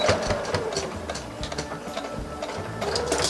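Sewing machine running steadily up close while stitching a backstitch on a Helen's Closet York Pinafore, with a rapid, even mechanical chatter throughout.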